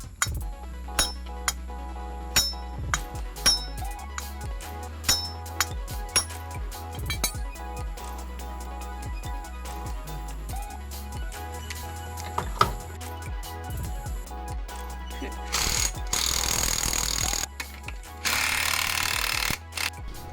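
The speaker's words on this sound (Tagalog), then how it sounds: "bago natin pukpukin ng medyo may pwersa ng konti para pantay yung pagpasok niya" Sharp metallic hammer taps on a Honda Click 125 scooter's side drive area as a part is driven in evenly, scattered strikes at close range over a low background hum, with a louder buzzing noise near the end.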